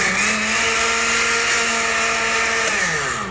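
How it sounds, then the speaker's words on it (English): A blender whirs loudly and steadily as it churns recycled paper pulp mixed with corn husk fibers, a dense motor drone with a faint pitch drop near the end. "turn the blender on."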